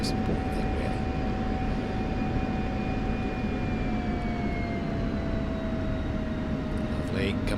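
A fixed-wing aircraft engine in a DCS flight simulator drones steadily at Nellis AFB, with a loud constant roar and a slowly falling whine as the plane rolls toward the runway, no talking.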